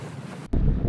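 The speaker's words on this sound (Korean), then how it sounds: "요트가 가는 방향의 정면, 즉 역풍만 불지 않으면 원하는 방향으로 갈 수 있습니다." A sailing yacht moving under wind at sea: loud, rough wind buffeting against the microphone with a sudden louder gust halfway through and no voices.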